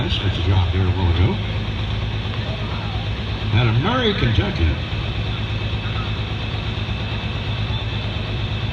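A 10,000 lb hot farm class tractor owned by Mike Dixon idles with a steady low rumbling drone at a night tractor pull in Marion, Kentucky, continuous beneath an announcer talking over a loudspeaker.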